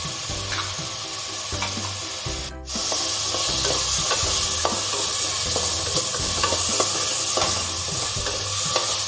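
Ingredients for fenugreek rice, seasoned with salt, sauté in a pan with a steady close sizzle and repeated scraping stir strokes. The sound pauses briefly partway through, then returns slightly louder.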